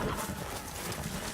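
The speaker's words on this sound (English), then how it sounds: "Well, there goes our horse." A horse in Telltale's Game of Thrones video game gallops off, a brief burst of dense, loud hoofbeats that fills the short moment.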